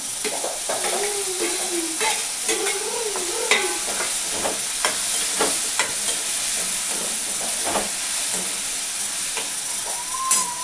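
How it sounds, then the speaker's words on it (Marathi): Tomatoes go into browned onion frying in a pan, giving a steady close sizzle and hiss with scraping spoon stirs throughout and a faint tonal whine in the background. "आपला कांदा लालसर झाला आहे. त्यानंतर आपण टमाटर टाकून घेऊ."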